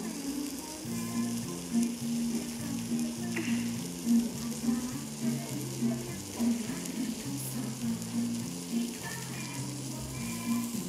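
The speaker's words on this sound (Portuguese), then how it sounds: "Ele estava fritando" Food fries in a pan in the Roblox game Bloxburg: a steady crackling sizzle with a rhythmic, looping pattern underneath, moderately quiet with no talking.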